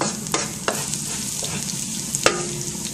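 Garlic fries in a pan with a steady close sizzle, while the scrape of a spoon or spatula stirring it cuts in a few times.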